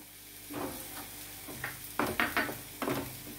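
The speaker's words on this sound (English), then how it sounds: "Cook the shallots till it becomes tender." Shallots cooking in a pan for chicken do pyaza, a soft continuous sizzle broken by several louder scraping stirs near the end, close and fairly quiet.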